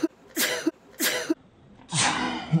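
A person sneezes in short bursts, with several quick breathy expulsions and small throat sounds packed into a couple of seconds, close and fairly quiet.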